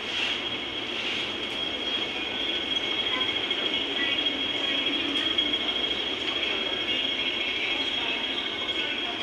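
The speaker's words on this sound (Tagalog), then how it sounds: "Ayan ang train, dumating na." A train pulls into a Hong Kong station with a steady rumbling roll and a sustained high metallic wheel squeal over it, close and continuous, with faint voices in the background.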